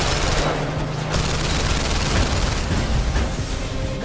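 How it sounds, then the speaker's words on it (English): Heavy gunfire in The London Heist video game sounds as loud, continuous fusillades of rapid shots with booming impacts, rattling without pause through the whole span. "Nice shooting."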